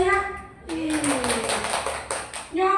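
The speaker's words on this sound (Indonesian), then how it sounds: "Tepuk tangan dong untuk saya." A burst of hand clapping from a small group, lasting about two seconds, with a voice speaking just before and after.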